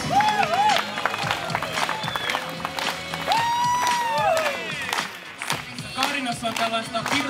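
Crowd at the Helsinki Pride 2011 parade applauding and cheering amid a continuous wash of noise, with whistles and voices rising over the clapping.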